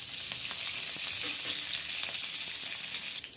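Chopped tomatoes fry in a pan for a sour lentil dal, giving a soft, steady sizzle with faint stirring clicks, quiet and close with no voices.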